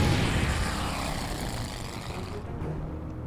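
Steady droning of propeller bomber engines in the World War II strategy game Order of Battle, a continuous roaring hum that fades slightly toward the end, with no talk.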